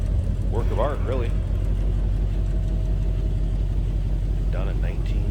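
A 1956 Cadillac Coupe Deville idles steadily, its exhaust exiting through the bumper, giving a constant low rumble throughout, with brief talk over it near the start and again near the end.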